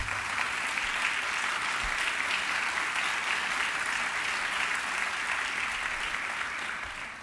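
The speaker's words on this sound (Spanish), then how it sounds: "pues aplaudámosles a todos los que como secretarios de turismo han hecho de México una gran potencia" A national tourism forum audience gives a sustained round of applause for tourism secretaries, dense and even clapping from a large crowd in a hall, continuous and fairly loud throughout.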